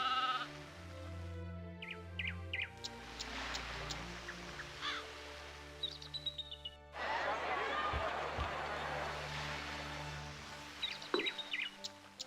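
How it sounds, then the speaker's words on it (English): Sheep bleating in the building strategy game Anno 1602, several short bleats scattered among game music and ambient sounds, with someone talking over them. "These darn sheep, man. I swear."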